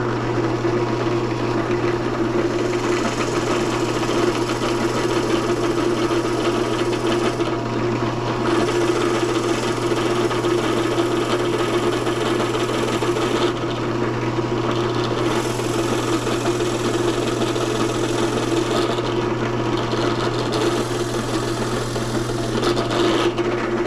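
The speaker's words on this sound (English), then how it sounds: "Drill press didn't have enough throw to really drill all the way through these blanks." A drill press bores into wooden pen blanks for pen turning, a steady motor hum with a gritty cutting rasp running continuously for the whole stretch, close and fairly loud.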